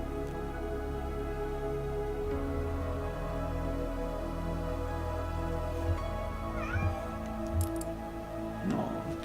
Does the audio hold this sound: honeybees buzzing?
no